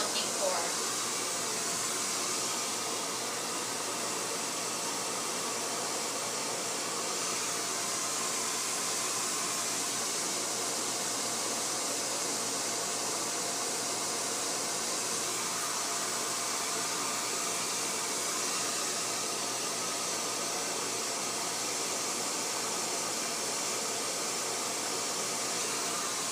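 A negative-ion hair dryer blows air through wet hair, a steady breathy hiss that holds throughout, with a voice speaking over it.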